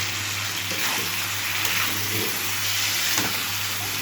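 Marinated meat and spice paste poured into a hot pan for a home-style meat curry, giving a continuous close hiss and sizzle with faint splashy textures throughout, and no talking.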